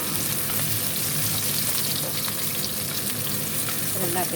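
Onions sautéing in a pan until browned for pork adobo, a steady, dense sizzle of frying with faint stirring scrapes, close and continuous, with no talk.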